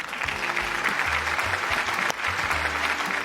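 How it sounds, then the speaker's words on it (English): Applause-like clapping rings out during a UFC fight post-show discussion, a steady rapid patter of claps over a low background hum, with a sharp louder clap standing out midway. "I got to clap"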